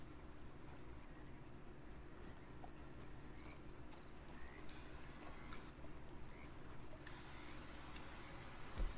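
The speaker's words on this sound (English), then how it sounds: "As the horse just walks away." Horse hooves clip-clopping at a walk in the Red Dead Online western game, a steady soft rhythm of hoofbeats moving away, set against continuous background noise and faint tonal music.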